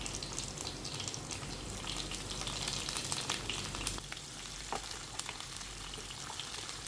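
Coconut pieces, curry leaves and green chillies frying in coconut oil, a steady dense sizzle with occasional crackles and pops, close and continuous, with no talking.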